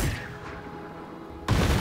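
Gunfire from the World War 2 strategy game Headquarters during an Omaha Beach landing: a dense, rumbling volley that fades, then a sudden loud burst of shots near the end.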